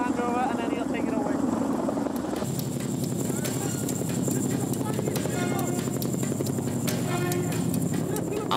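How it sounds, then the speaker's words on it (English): A helicopter hovers overhead while lifting a slung load, its rotor giving a loud, continuous chopping throb that shifts partway through, and people talk over it nearby. "underneath the helicopter, at least you're sheltered from the downwash."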